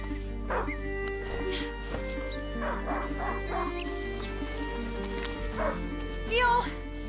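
A dog barks, yips and whimpers in A Plague Tale: Innocence, several short yelps scattered across the stretch with a louder cluster near the end, over steady game ambience.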